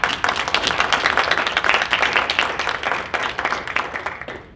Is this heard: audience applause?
yes